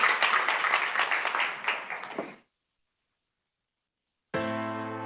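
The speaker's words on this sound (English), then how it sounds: "One more round of applause for Charles." Audience applause at a startup cohort demo day, a dense burst of clapping for about two seconds that cuts off abruptly into silence before a music-like tone enters.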